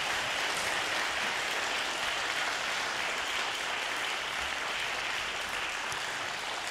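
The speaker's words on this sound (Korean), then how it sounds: "다시 한번 뜨거운 큰 박수 부탁드립니다." Sustained, even clapping from a concert hall audience fills the space for the Bupyeong Philharmonic Orchestra at its youth concert, holding steady without pause.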